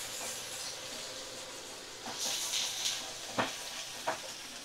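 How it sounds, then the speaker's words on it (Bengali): A spice mix with Kashmiri red chili powder sizzles in a pan while being stirred: a steady hissing fry with scraping strokes, and two sharper knocks of the spoon near the end. "তো ভালো করে মশলা আমি নাড়াচাড়া করে নেব"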